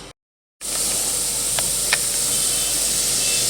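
Oil heating in a pan gives a steady, fairly loud hiss after a brief silent gap, with a couple of faint clicks along the way.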